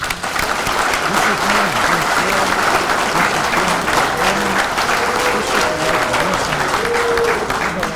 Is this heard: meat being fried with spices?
no